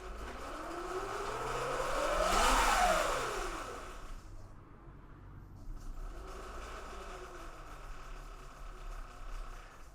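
Electric motorcycle fitted with a K.O. Moto motor and controller, throttle barely cracked, a whining tone that rises and falls once, then a faint hum, fairly quiet and close, no talk.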